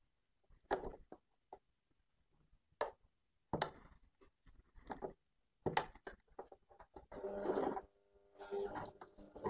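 A sewing machine stitches an invisible zipper onto fabric in short, intermittent bursts of quiet mechanical whirring, separated by pauses.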